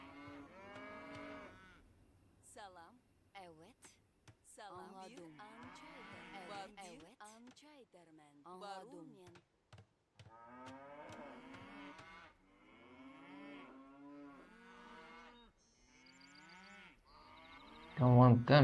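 Cattle moo repeatedly in the video game Ao2, drawn-out lowing calls coming one after another with short pauses over about eighteen seconds, plus a sudden loud thump at the end.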